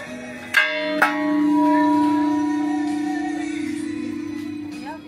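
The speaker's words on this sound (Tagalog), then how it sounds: "There's a bell." A church bell on a hilltop viewing spot in Bohol, Philippines, by the Chocolate Hills, strikes twice in quick succession near the start, then hums and rings out in a long, slowly fading resonance, fairly loud and close.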